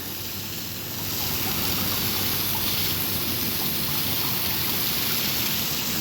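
Rain falls steadily outdoors near a car being cleaned, a dense, constant hiss of drops that grows slightly louder after the first second and continues evenly.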